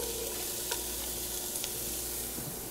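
Onions and garlic sauté in a pan as celery is added, a dense steady sizzle with a few stirring clicks and scrapes, close and fairly loud, without speech.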